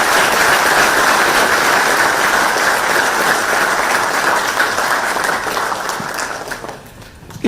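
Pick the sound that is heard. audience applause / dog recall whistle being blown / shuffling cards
audience applause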